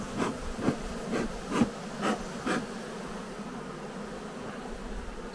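Honey bees swarm around apiary hives in early May while frames are checked. Their buzzing is a steady, fairly soft drone, with several rhythmic pulses early on before it settles into an even hum.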